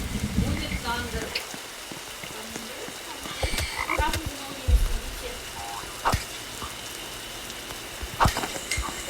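Frog croaks sound intermittently in the Roblox survival game 99 Nights in the Forest, a few short ribbity calls over a steady hiss like rain, with people talking faintly at the start.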